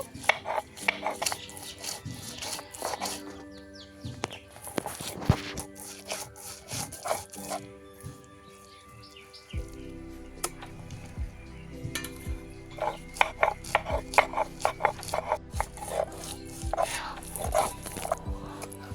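Corn kernels ground by hand on a grinding stone make repeated close rasping, scraping strokes in an uneven rhythm, with other faint background sounds around them.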